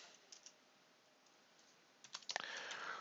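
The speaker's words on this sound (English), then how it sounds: "We can just type in here Sam01" Quick keyboard typing while entering a new record in Sage 200 accounting software, a few soft clicks early then a brief faster burst of keystrokes near the end, faint and close.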